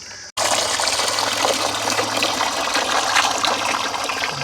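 Cold tap water gushes steadily over freshly boiled duck eggs in a pot, a full, continuous pour that starts after a brief split-second pause and runs unbroken to the end.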